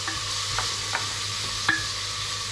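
Garlic and chouriço with a bay leaf sautéing in a pan, a steady close sizzle broken by a few light scrapes of a stirring utensil.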